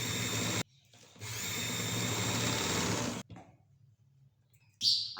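Sewing machine stitching the crotch seam of pocket pants trousers, a steady whirring run of about two seconds after a brief burst, then quiet handling sounds and a short final burst.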